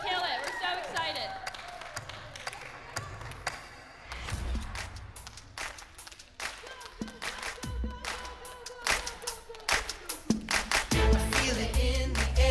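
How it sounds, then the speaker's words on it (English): Crowd cheering and clapping for crew leaders at a VBS (vacation Bible school) event, scattered claps and cheers rising over music and amplified talk, growing louder toward the end. "everyone cheer for your crew leaders"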